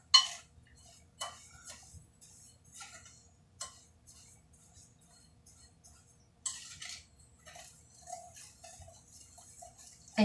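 A spoon stirs graveyard or bank dirt clockwise in a bowl during an enchanting ritual, giving faint scattered clinks and scrapes with quiet gaps between them and a soft low hum underneath.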